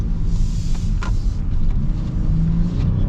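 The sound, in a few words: 2025 Honda Odyssey Elite V6 engine accelerating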